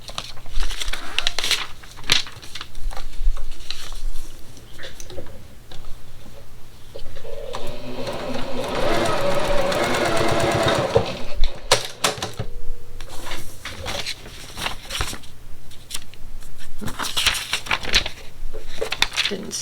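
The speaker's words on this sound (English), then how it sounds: "Line it up with your seam allowance and then sew it down." A sewing machine stitches a pickle dish quilt block in quick rattling bursts, broken by short pauses, with someone talking between and over the runs.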